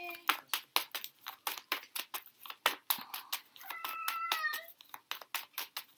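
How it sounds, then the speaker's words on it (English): Several cats cry out in an agitated, noisy burst, with repeated sharp rhythmic sounds and a drawn-out meow partway through, fairly faint and close. "Cats are going apeshit right now."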